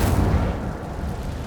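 An Incendio fire spell cast in Hogwarts Legacy, a dense, loud whooshing roar of flame that holds steady for over a second with a heavy low rumble.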